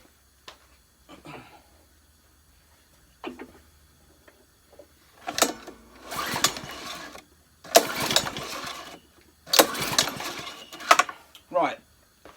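A Honda lawn mower's recoil starter is yanked several times to check for spark, giving bursts of rattling, whirring pull noise separated by pauses, loud and close, with some smaller mechanical clicks between.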